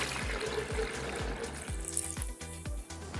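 Water poured into a spiced pani puri mixture, a steady splashing liquid pour running close and loud throughout, with faint background music underneath.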